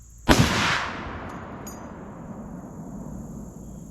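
A single loud gunshot at a shooting range aimed at a cabbage target, a sharp crack followed by a long rolling echo that fades slowly over several seconds.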